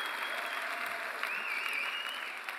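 A concert audience in Perth claps in a dense, steady wash of applause for a few seconds, fairly distant, with a faint whistle cutting through partway.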